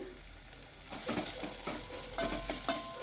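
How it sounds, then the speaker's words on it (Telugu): Ginger garlic paste frying and being stirred in a pan while cooking a taro curry, with a steady sizzle and soft scraping strokes that grow busier partway through, close and moderately loud with no talk. "ఇప్పుడు దీంట్లోకి అల్లం వెల్లుల్లి పేస్ట్ కూడా వేసుకున్నాను మళ్ళీ ఒకసారి అంతా బాగా కలుపుకుంటున్నాను"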